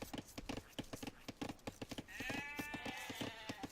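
In a game of Age of Empires II, sheep bleat repeatedly in short quiet bursts over a rhythmic clip-clopping patter, with a longer, drawn-out bleat midway.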